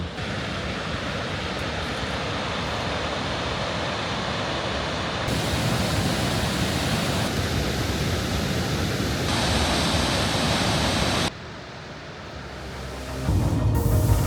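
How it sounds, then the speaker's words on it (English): Gullfoss, a large waterfall in Iceland, gives off a continuous dense roar of falling water, loud and broadband throughout, shifting in level as the position changes, with a brief quieter patch near the end. "Gullfoss is a really majestic waterfall"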